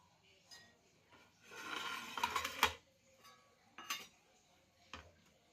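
Quiet clinks and scrapes of utensils against a bowl as spicy misal is served, with a cluster of light metallic taps followed by a few isolated knocks, faint and close.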